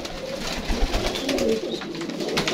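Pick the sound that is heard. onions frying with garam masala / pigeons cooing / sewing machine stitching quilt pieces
pigeons cooing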